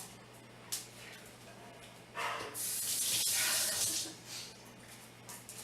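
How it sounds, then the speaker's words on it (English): A kitchen tap runs over a knife being rinsed, a faint hiss that swells into a brighter spray for about two seconds before fading, with quiet room noise around it. "I'm going to rinse my knife"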